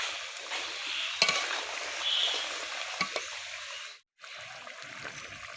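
Ground spice paste goes into the simmering gravy of an egg cake curry, making soft sizzling and stirring scrapes with a couple of brief clatters, and the sound drops out for a moment near the end.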